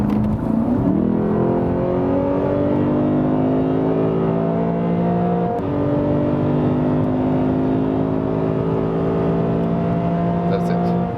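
A Lexus GS F V8 in Sport Plus mode pulls hard from 100 to 200 on the Autobahn, its loud engine note climbing steadily, dropping once at a quick upshift midway, then rising again under a constant road roar.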